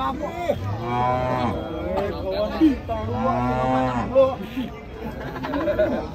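Belgian Blue cattle at a livestock market moo repeatedly in long, drawn-out lowing calls, loud and close, with faint background chatter.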